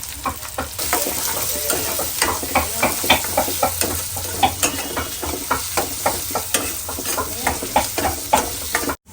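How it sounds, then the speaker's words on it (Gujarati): Chopped onions sautéing in a pan for palak paneer gravy, a constant sizzle broken by regular scraping and clacking stirs of a utensil, close and loud, with no talk. "અને થોડીક આપણે નાખશું ડુંગળી અને સાતડવાની છે બે મિનિટ સુધી જ્યાં સુધી બ્રાઉન કલર ના થાય"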